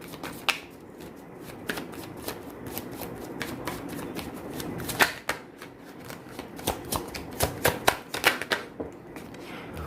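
Tarot cards are shuffled by hand in a quick, crisp riffling flutter, close up, growing busier and louder toward the end with no talking.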